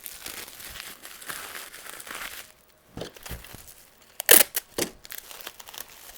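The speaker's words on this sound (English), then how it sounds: "I am going to wrap them up in some wrap." Padding wrap crinkles and tears while items are bundled for a flat rate mailing envelope. The crackly rustling comes close up and comes in bursts, with a brief pause and a few sharp louder crinkles near the end.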